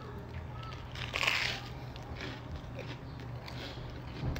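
Someone bites into a crispy grilled cheese sandwich made in an air fryer, one close crunch followed by quieter chewing crackles over a steady background hum.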